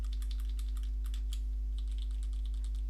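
Typing on a computer keyboard: irregular quiet key clicks in short bursts over a steady low electrical hum, with no talking.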